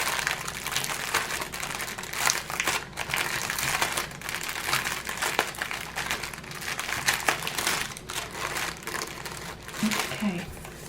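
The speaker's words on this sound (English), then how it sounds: "Let me pull out this paper." A sheet of paper being pulled out of a diamond painting kit gives steady close crinkling and rustling throughout, with a few sharper crackles near the end.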